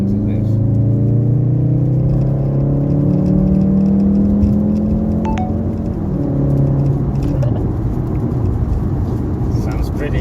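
A Volkswagen Golf R engine runs loud and close, a steady deep drone that rises in pitch through the first half, then drops and settles into a rough, rumbling idle.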